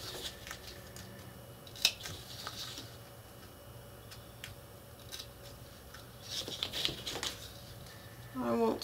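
Scissors make a couple of small release snips in slipcase paper for Secret Garden leaves without backing, each a brief, faint crisp cut separated by quiet handling.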